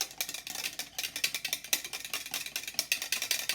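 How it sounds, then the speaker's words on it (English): An egg being whisked in a bowl in a quiet kitchen, a quick run of light, rhythmic clicking scrapes repeating several times a second at low volume, with no talking. "So I'm just going to put an egg in here. And I'm going to go ahead and whisk it."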